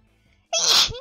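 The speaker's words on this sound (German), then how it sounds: "Oh, ich muss niesen." A single sudden sneeze, loud and close, bursting out after a brief quiet moment.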